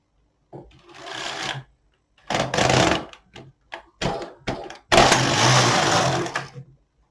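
A domestic knitting machine knits rows of a baby sleepsuit, its carriage whirring in several loud close passes: short bursts, then a long sustained run.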